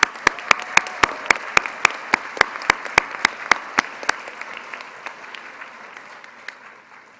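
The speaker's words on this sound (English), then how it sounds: "Big round of applause for her" Applause in a commencement ceremony crowd: a few sharp, distinct claps near the microphone ring out over a softer spread of clapping, then thin out and fade toward the end.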